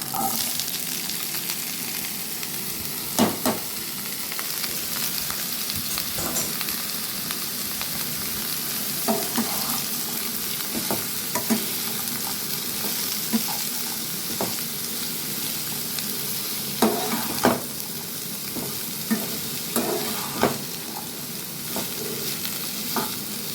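Chopped ash gourd frying in a pan for a hilsa fish head curry: a continuous close sizzle with intermittent scraping and knocking of a spatula as the pieces are stirred, and no voices.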